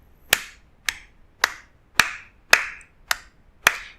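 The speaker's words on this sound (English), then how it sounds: "So I'm just going to clap" Seven sharp hand claps at a steady, even tempo of 108 beats per minute, close and dry in a quiet room, each clap ringing briefly before the next.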